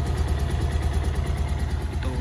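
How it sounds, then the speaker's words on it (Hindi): A motorbike engine idles just after starting, a steady low mechanical putter with a regular pulsing rhythm, moderately loud and close, with no talking over it. "बाइक कर दी स्टार्ट"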